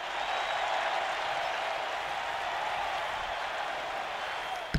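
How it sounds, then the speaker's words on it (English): Arena crowd in the NBA 2K17 basketball game roars and cheers in a steady, dense wash that holds loud for several seconds with no voices on top. "The crowd looks good, yo."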